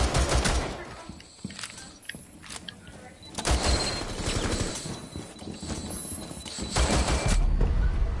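Pistol fire in Rainbow Six Siege's terrorist hunt mode: several sharp, close shots in irregular bursts, with background game noise and rumble between them.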